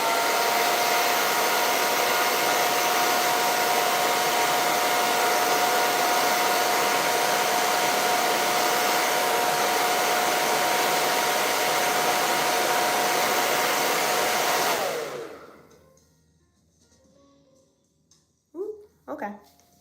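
A hair dryer blasts steadily at close range while drying and setting the lace of a wig, a loud continuous whoosh that cuts off near the end, followed by faint rustling and someone briefly speaking.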